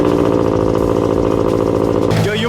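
A Scion FR-S sports car fitted with a new widebody kit revs hard and loud, its engine drone steady and close before a sudden drop near the end, with voices talking over it.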